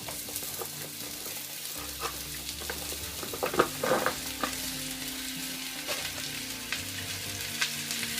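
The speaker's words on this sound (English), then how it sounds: "We're just going to saute these until they pretty much reduce in half." Thick-cut, chunky mushrooms sauteing in a pan over medium heat, a steady close sizzle with occasional stirring scrapes and spattering pops.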